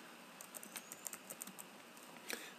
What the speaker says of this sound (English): And then after I type Virginia